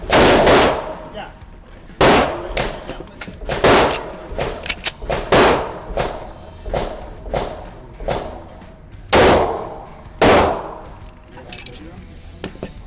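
Rock Island Armory M1911 A1 10mm pistol fired outdoors, loud sharp single shots in irregular succession, about a dozen over the span, with voices talking faintly between them.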